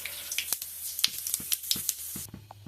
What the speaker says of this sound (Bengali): শুকনো লঙ্কা একটা আর গোটা তেজপাতা দিয়েছি